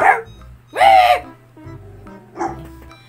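A few nearby dog barks or yips, loud and spaced out, with brief pauses between them over a faint background hum.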